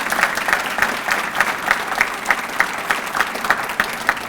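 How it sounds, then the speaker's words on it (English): An audience at a county State of Business address claps for a newly named chamber of commerce president and CEO, a steady round of applause with a regular pulsing beat, moderately loud and sustained to the end. "Please give her another big round of applause."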